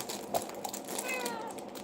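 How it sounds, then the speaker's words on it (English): Pet cat giving a short meow, close and moderately loud, with faint indoor background noise. "You hear my cat, y'all?"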